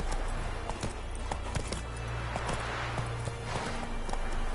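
Horse hooves gallop in The Witcher 3 video game, a fast, steady clip-clop rhythm close up and fairly loud, with no talk over it.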